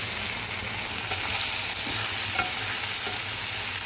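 Vegetables sizzle and fry in a pan while being stirred, a steady crackling hiss with scraping stirs running throughout, close and fairly loud, with no voices.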